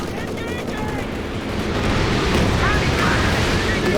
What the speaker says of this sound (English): it's machine gun revealing itself in the fog of war there, trying to do the anti-air work